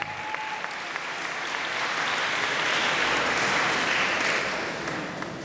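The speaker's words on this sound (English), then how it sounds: "A round of applause for Dr." A commencement audience gives Dr. Barr a steady round of applause, a dense wash of clapping from a large crowd that swells slightly in the middle before easing off.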